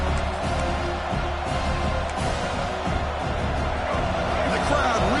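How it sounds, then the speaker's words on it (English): Football stadium crowd at a Notre Dame–Alabama game roars steadily for the defense near the goal line, a dense, continuous wash of cheering with a commentator talking over it. "the crowd really making some noise now, trying to help out this defense to get this stop near the goal line"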